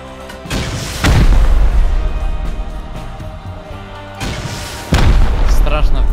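Rocket blasts hammer a metal door during a raid in the video game Rust, two heavy booming detonations landing about four seconds apart over a continuous loud low rumble.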